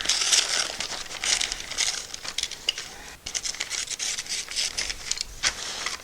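Newspaper crumpled and crinkled close up while being taped into a restroom mirror frame, a steady dense rustling with brief tearing and pressing accents throughout, no talking.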